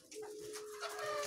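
Doves, puter and perkutut, call briefly at a breeding farm, a faint tonal coo over quiet background.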